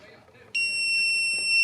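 A digital torque wrench sounds a sudden, loud, steady electronic beep as the set torque is reached while tightening during an oil change on a Harley-Davidson motorcycle; quiet voices come just before the beep.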